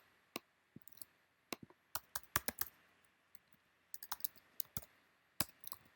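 Keys on a computer keyboard tapped in short bursts while entering colour values in Illustrator, crisp close clicks in clusters with brief pauses between, no voices.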